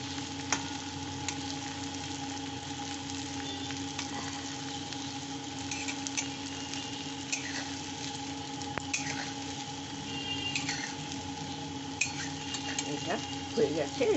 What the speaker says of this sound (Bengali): এটাও ওই রকম একটু ব্রাউন করে একটু ভেজে নেব